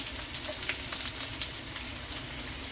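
Ginger, garlic and onion frying in hot oil with mustard seeds give a steady, soft sizzle with small crackles and pops, close by and alone, with no talking.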